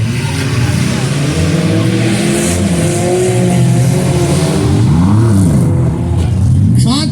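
Autocross race cars from a fall cleanup demolition derby show roar around a dirt track, engines revving and rising in pitch as they pass close by, with a continuous loud drone and a race announcer talking over the noise.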